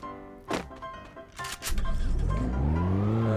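A Lamborghini's engine in a video game surges into a rising, droning rev that holds loud and steady, following a few seconds of a voice talking.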